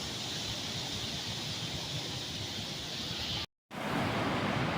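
A waterfall in a snowy landscape gives off a steady, dense roar of rushing water that fills the clip without variation, briefly cut by a moment of silence near the end.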